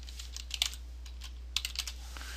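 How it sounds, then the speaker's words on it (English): Computer keyboard being typed on while making a PowerPoint slide, two short bursts of crisp rapid keystrokes separated by a pause, close and clear over a low steady hum, no speech. "I'm going to type hyperlink."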